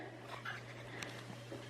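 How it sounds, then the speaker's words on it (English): A puppy gives a few faint, brief whimpers in a quiet indoor room, with soft whines coming and going and no one talking. "we've got our puppy"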